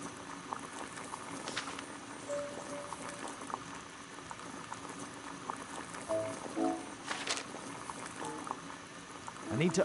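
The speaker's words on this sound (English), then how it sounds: "Boil water in kettle." Water boils in a kettle on a gas burner in the video game Sherlock Holmes: The Devil's Daughter: a steady, close bubbling and hissing that continues throughout, with a few faint clinks.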